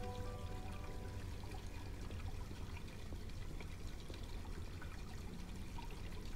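Hot water runs and steams in a horror video game, a soft steady pouring trickle that continues evenly without any voices.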